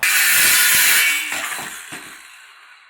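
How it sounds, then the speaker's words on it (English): Cordless circular saw cutting through a wood board, a loud close whining burst that fades as the blade spins down over a few seconds. "I'm just gonna use my cordless circular saw."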